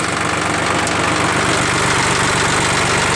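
A 1910 Ford car engine idles steadily close by, a continuous loud low mechanical rumble with a fast, even chugging pulse and no voices throughout.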